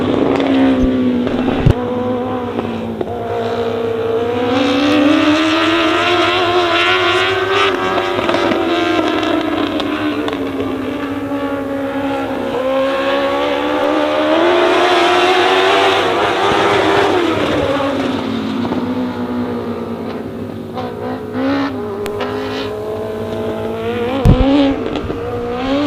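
Stock cars race around Honor Speedway on the final lap, engines droning loud and continuous with rising and falling pitch as the pack passes, and a sharp pop near the end.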